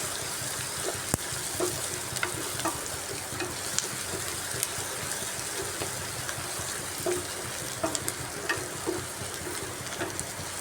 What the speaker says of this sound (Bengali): পেঁয়াজ আদা রসুন কুচি একটু ভালোভাবে ভেজে নিচ্ছি